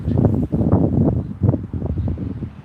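Heavy wind buffeting a microphone, a continuous low rumbling roar with gusty swells throughout, loud and close, with no voices.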